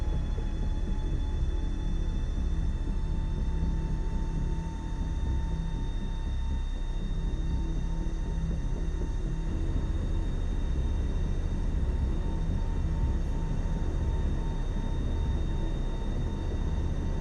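Airliner jet engines at full takeoff throttle in MSFS 2024 produce a sustained, dense roar and rumble with steady high whine tones, unbroken and loud for the whole stretch.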